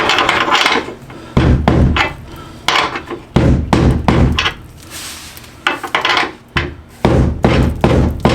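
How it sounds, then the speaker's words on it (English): Heavy hammer blows strike a socket to press a suspension bushing sleeve during subframe work, coming in loud close bursts of repeated impacts separated by brief pauses. "use the socket and just kind of get a hammer"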